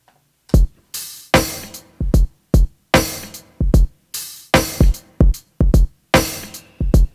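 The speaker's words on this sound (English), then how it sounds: "That's the tambourine right there." Soloed sequenced drum-kit track from a soulful groove, with punchy kick and snare hits and a shaken tambourine in a steady, loud pattern; about a dozen sharp hits with short decaying tails and nothing else.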